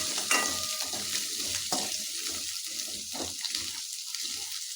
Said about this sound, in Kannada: ಒಂದು ಕಪ್ ದಪ್ಪದಾಗಿ ಹೆಚ್ಚಿರೋ ಇದನ್ನು ಸ್ವಲ್ಪ ಚೆನ್ನಾಗಿ ಫ್ರೈ ಮಾಡಬೇಕಿದೆ